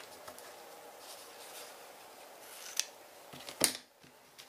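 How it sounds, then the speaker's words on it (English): Grand Pro shears trim a paper card in a quiet room, with a couple of crisp, brief snips standing out near the end over faint background hiss. "now we're going to get our Grand Pro shears out and just trim off"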